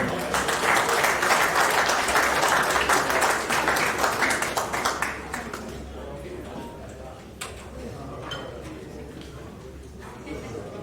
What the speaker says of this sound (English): Give him a big round of applause, Greg.